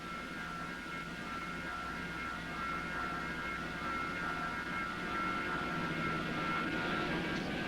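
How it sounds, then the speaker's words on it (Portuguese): Enola Gay, an American bomber, takes off in August 1945: a steady, droning engine roar with a sustained tonal whine that swells slightly toward the end, distant-sounding and alone without speech. "o Enola Gay, um bombardeiro americano, levantou voo"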